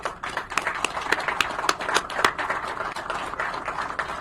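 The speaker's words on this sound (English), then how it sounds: "Let's give them a round of applause." Small crowd of officials and guests clapping at an outdoor groundbreaking for a new Boca Raton elementary school, individual claps distinct and uneven, moderately close.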